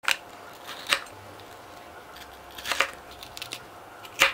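A knife slices through the bottom of a capsicum (bell pepper) quarter in a few short crisp crunching cuts, close and fairly quiet, with pauses between strokes.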